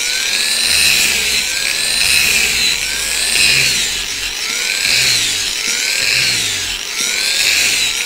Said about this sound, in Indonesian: Lanjut ke yang amplas velcro terakhir,